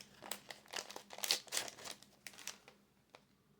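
Foil wrapping of a trading card booster pack crinkles and tears as it is opened by hand, a quiet cluster of crackling rustles that tapers off toward the end.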